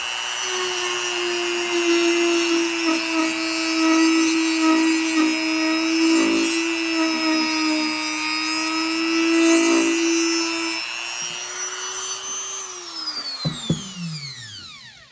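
A DEPSTECH rotary tool, a low-cost Dremel alternative, runs a sanding wheel against wood. It gives a continuous high-pitched motor whine with gritty scraping that rises and falls, then winds down as the tool is switched off near the end.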